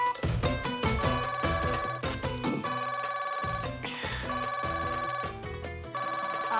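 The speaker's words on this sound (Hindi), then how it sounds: "आपका फोन बज रहा है, जवाब दीजिए।" A phone ringtone plays a repeating melodic pattern, bright and clear, with brief pauses between the ringing phrases.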